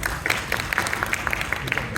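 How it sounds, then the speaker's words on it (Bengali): An audience at a public event for entrepreneurs and the national MSME association gives a round of applause. It is a brief, dense patter of many hands clapping at once, moderately loud and fairly thin. "Can we have a very big round of applause please?"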